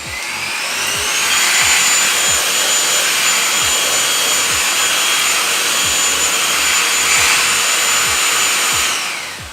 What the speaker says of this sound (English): it's vacuumed that all up super fast.